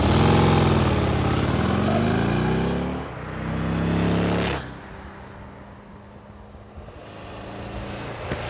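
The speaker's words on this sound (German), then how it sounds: "Das ist einfach ein wunderbarer V2, eigentlich ein relativ altmodischer Motor, aber mit 1200 Kubik" A Buell XB12 SCG motorcycle with a 1200cc V2 engine revs loudly up close, a deep throbbing roar that rises and falls, then drops to a steady lumpy idle.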